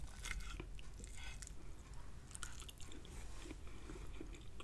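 Close-up chewing of a Jamaican oxtail meal: wet, squishy bites and crunchy mastication repeating irregularly, quiet but intimate, with no talking.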